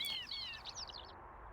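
A songbird on heathland at Greenham Common, likely a woodlark, pours out a rapid run of high, fluttering, slurred notes, close and clear at first and trailing off within a second and a half over faint background hiss.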